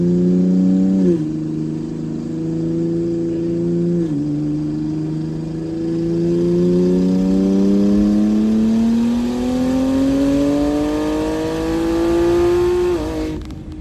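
A Ford Explorer ST fitted with a big turbo kit pulls hard in fourth gear, its engine note rising steadily and loudly through the revs, with a couple of brief dips along the way, before cutting off at the end.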